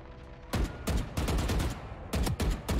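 Valorant gunfire heard as several sharp, loud rifle bursts in quick succession, separated by short pauses, over quiet game ambience with no voices.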